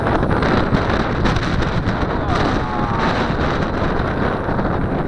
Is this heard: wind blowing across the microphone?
yes